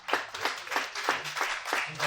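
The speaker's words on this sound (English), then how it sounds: "Special clap for Boca, please." An audience at a talk on Kenyan development claps for a speaker in a steady, rhythmic unison pattern of roughly six strong beats, moderately loud and close.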